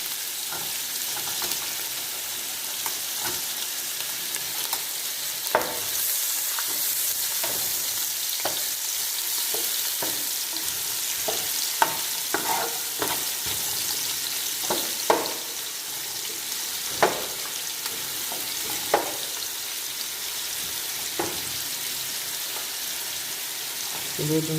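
Ginger sautéing in a pan, a dense, steady hiss of frying oil with scattered crackles and occasional utensil taps, close and continuous throughout.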